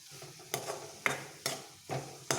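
A spoon stirs onions and tomato softening with salt in a pan, giving quiet scraping strokes roughly every half second over a faint low sizzle, close with no talk.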